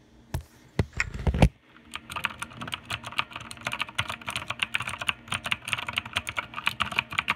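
Clicky PICTEK mechanical gaming keyboard keys typed in a fast, steady patter of sharp clicks, preceded by a few louder isolated key strikes; no voice.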